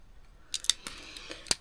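Several crisp, close scissor snips cut through paper in an irregular rhythm in a quiet room.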